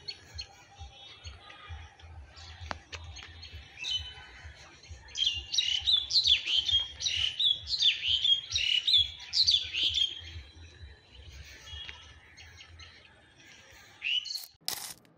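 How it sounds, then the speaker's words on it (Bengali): Many birds calling together outdoors in rural Munshiganj, Bangladesh, a burst of repeated high chirps in quick series over faint background noise, fairly close, with no talking. "নামাজ পড়ে আসার সময় পরিবেশটা এত সুন্দর ছিল এবং অনেক পাখি একসাথে ডাকছিল।"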